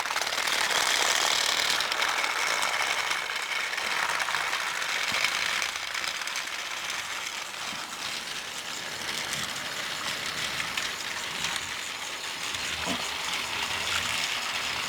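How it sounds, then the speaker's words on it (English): Motorized Tomy toy trains race around a plastic track, making a steady, faint mechanical whirring and rattling gear buzz that runs on continuously with no voices. "my version of Diesel 10 Takes Charge is taking the lead again. Especially on the outside track."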